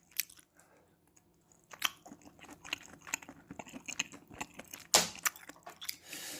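Crisp, crunchy chewing of a chewy, crunchy snack of seasoned dried squid strips, heard up close as rapid irregular bites and crunches. One sharp louder crunch stands out near the end, and there is no talk.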